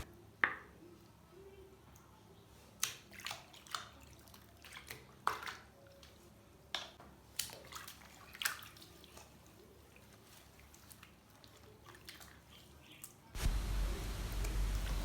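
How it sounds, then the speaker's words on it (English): Wig hair soaking in a sink filled with water, with sparse soft drips, squishes and small splashes spread over quiet stretches, ending in a louder rush of running water. "So I like to fill my sink with some water and then just soak the hair inside."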